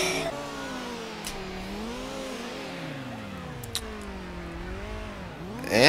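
Car engine in Need For Speed: Underground revving up and down through gears with sweeping pitch changes as it drives a track, loud and close, with a few sharp clicks and a surge at the end.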